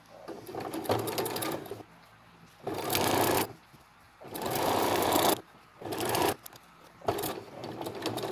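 A sewing machine stitches fabric binding, finishing with a short backstitch, running in close, loud bursts of rapid mechanical chatter separated by brief pauses.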